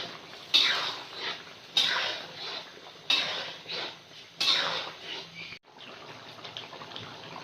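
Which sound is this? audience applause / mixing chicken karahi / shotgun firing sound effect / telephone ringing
mixing chicken karahi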